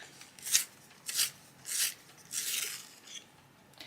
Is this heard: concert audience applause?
no